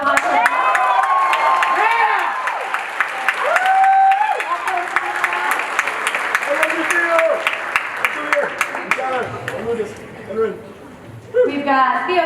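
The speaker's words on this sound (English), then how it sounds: "Give a round of applause for her." Loud, sustained applause fills a school spring concert hall, with scattered cheers and whoops over the clapping, while voices speak and call out throughout before it thins near the end.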